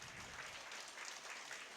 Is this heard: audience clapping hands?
yes